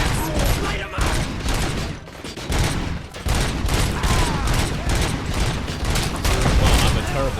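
Sustained firefight in RoboCop: Rogue City, dense rapid bursts of shots and impacts packed together over constant loud game noise, with metallic mechanical clatter mixed in and no clear gaps.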